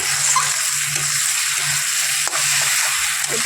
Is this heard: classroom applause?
no